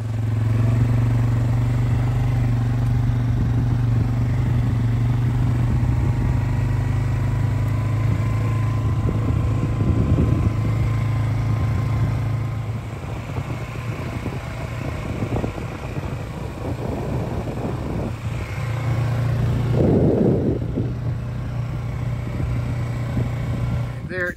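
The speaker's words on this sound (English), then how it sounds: "jump on the four-wheeler and head back out" Four-wheeler ATV engine running steadily while driving out on a Colorado deer hunting trip, a continuous close rumbling drone with rattles and clatter, faintly lessening partway through.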